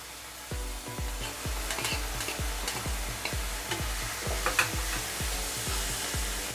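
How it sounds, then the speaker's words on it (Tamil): A spoon stirs ground spices, garam masala, cumin powder and chilli powder, into a frying egg gravy, scraping the pan in a steady rhythm of about a dozen strokes over a continuous sizzle. "இப்போ இது எல்லாத்தையும் சேர்த்துட்டு கலரி விட்டுருங்க."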